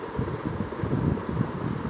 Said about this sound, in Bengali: ফ্যানটা একটু শো শব্দ আছে